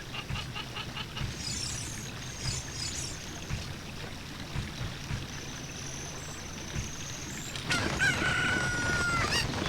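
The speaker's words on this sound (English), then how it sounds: "You rude little chicken." Chickens cluck and crow in The Legend of Zelda: Ocarina of Time, set against steady game music with a rhythmic pulse, and a louder squawking burst near the end; no talk.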